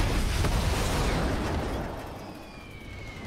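A rocket ram explosion in Fortnite, heard as a loud, broad burst with rumble that fades over a few seconds, while a faint high whine trails underneath.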